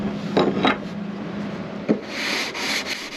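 Wooden acoustic guitar top being sanded smooth by hand around the lower bout where the bridge will sit, with a couple of short rubbing strokes, a brief knock, then a steadier, softer scrubbing, close and alone.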